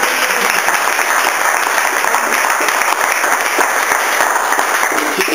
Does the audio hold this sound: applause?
yes